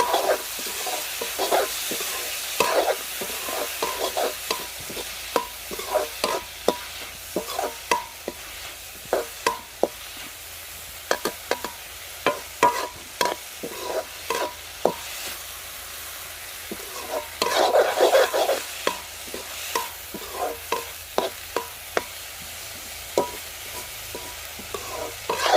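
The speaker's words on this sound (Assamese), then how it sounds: "এতিয়া মই মাহৰ দালিখিনি ভালকৈ ভাজি ল'ম" Black gram dal fries in a pan with a continuous soft sizzle and frequent rhythmic scraping and stirring taps of a spoon, close and without talk.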